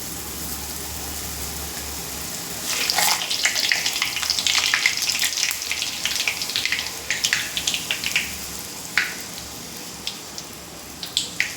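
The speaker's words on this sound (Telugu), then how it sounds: "చాలా బాగా ఫ్రై అవుతుంది" Puris deep-frying in hot oil, a steady bubbling sizzle that swells loud after a quiet start, with crackling bursts and scattered sharp pops toward the end.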